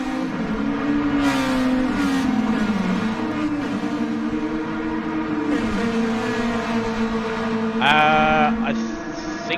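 Formula 3 race cars in the Track Stars video game at the Japanese Grand Prix, engines droning steadily with harmonic whine throughout and a sharper rising rev near the end, with faint talk underneath.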